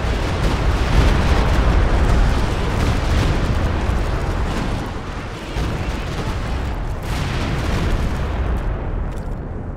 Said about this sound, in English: Artillery is converging on the enemy's exact position.